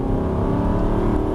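Aston Martin Vantage V8 accelerating out of a corner on a track, its engine a steady, loud droning rumble throughout with no voices.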